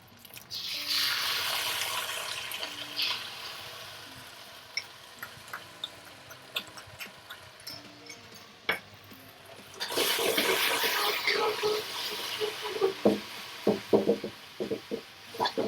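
Sauce goes into a hot wok of beef chow hor fun with a loud rushing sizzle, then fades to softer frying with scattered clinks. A second big burst of sizzling follows, with spatula scrapes and knocks against the wok.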